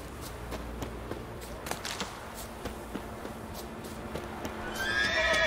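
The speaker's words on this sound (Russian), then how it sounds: "А что за лошадь там?" A horse in The Witcher 3 video game gives a clear whinny over a steady ambient bed, with light clip-clopping hoof steps and occasional taps, growing slightly louder and brighter near the end.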